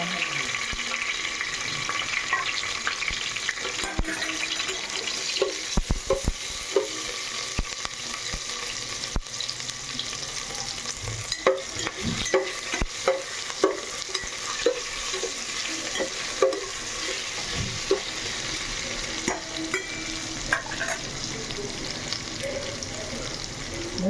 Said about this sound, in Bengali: একটু ভাজা ভাজা হয়ে আসবে